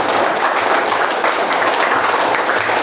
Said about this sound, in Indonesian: kasih tepuk tangan dulu sama teman-teman yang ada di rumah